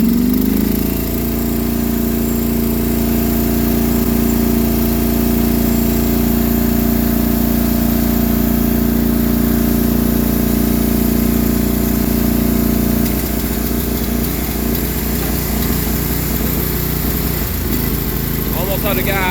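A tractor engine runs steadily in low range, a loud, close, constant drone with a shift in tone toward the end.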